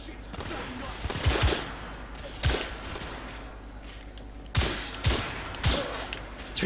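Gunshots from the video game The Order 1886: sharp, loud bursts in clusters, three or four close together near the start, one alone in the middle, then another quick group of three, with a low background ambience between them.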